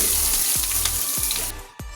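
Steady hot-oil sizzle as finely chopped ginger fries, crackling loudly and continuously, with a few soft low knocks from a pan, then briefly dipping near the end.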